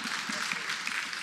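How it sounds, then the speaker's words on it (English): Brief burst of audience applause at a film Q&A at Ebertfest, moderately loud clapping from a crowd with a voice faintly beneath it. "I feel like the hats in this film need their own round of applause."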